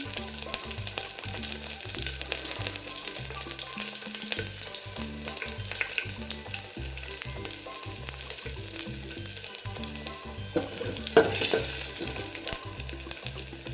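Curry leaves and garlic fry in hot oil for sambar, a dense continuous sizzle with faint clinks and a brief louder splutter near the end, heard alone without talk.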